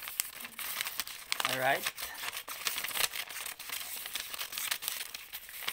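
Scissors snip through a paper Möbius strip in a few short crinkling, tearing cuts, close and fairly quiet, while a person speaks over the cutting.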